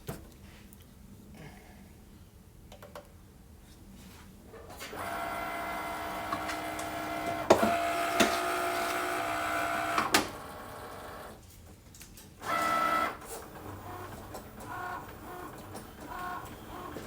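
A Cricut cutting machine cuts a design for Infusible Ink M&M coasters, a mechanical whir and buzz starting a few seconds in, with brief louder peaks, pausing, then resuming steadily at close range.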